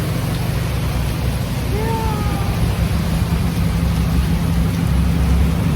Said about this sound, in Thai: ฝนตกเกิน